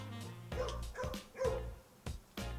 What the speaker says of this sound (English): If you can hear the like 20 dogs outside barking,